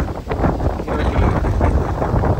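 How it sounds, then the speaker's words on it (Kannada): Strong wind buffets the microphone in loud, gusty roars at the shore of St Mary's Island, with rough sea waves churning beneath it and no clear separate crashes. "ಜೋರಾಗಿ ಗಾಳಿ ಪ್ರಾರಂಭವಾಯಿತು, ಹಾಗೆ ಅಲೆಗಳ ಅಬ್ಬರ ನೋಡಿ"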